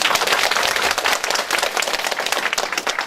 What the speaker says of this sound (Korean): 보신 영상 박수 한번 쳐주셔야 되는 거 아니에요?